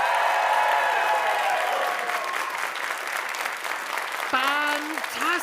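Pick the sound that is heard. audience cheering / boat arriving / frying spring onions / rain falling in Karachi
audience cheering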